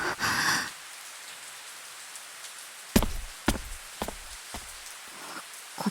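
Steady rainfall hissing softly in the background, with a burst of noise at the start and several sharp knocks standing out over the rain.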